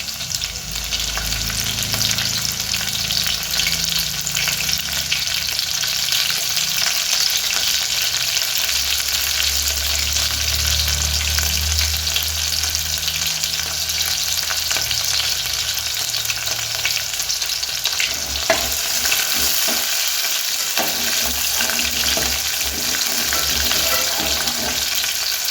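Green chillies frying for methi bhaji, a steady loud sizzle with occasional stirring scrapes running continuously throughout, no voices.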